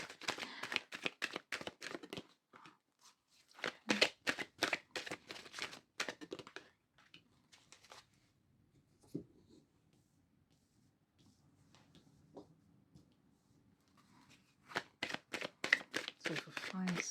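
Tarot cards are shuffled and pulled from a deck in quick crisp riffling bursts, close and fairly loud, with a quieter stretch of soft handling in between and a voice speaking at moments.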